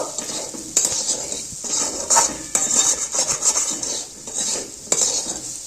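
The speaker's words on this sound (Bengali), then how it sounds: "আরেকটু নেড়ে নেব" A spoon stirring small salted potatoes in a pan, scraping and clinking against the metal in irregular strokes with a light sizzle underneath, close and fairly loud.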